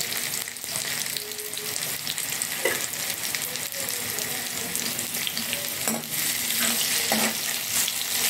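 Asafoetida hits hot oil in a pan of cauliflower being fried golden for gobhi sabji, a steady loud sizzle and crackle with occasional stirring scrapes.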